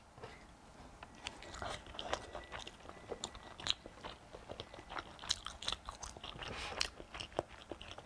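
Eight-treasure sticky rice being eaten up close in a mukbang, with soft, sticky chewing and biting sounds repeating steadily throughout, with no talking.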